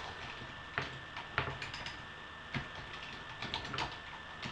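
Typing on a computer keyboard while setting a map level property in the MapWork editor, heard as a few scattered, fairly faint keystroke clicks over a quiet background hum.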